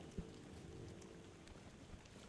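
Steady rain falls in the video game Tainted Grail: The Fall of Avalon, an even soft hiss throughout with one brief thump near the start, heard alone.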